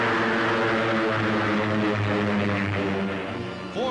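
Naval training aircraft taking off in battle formation from a Great Lakes training carrier, a loud steady propeller drone with layered engine harmonics that holds throughout, easing slightly near the end.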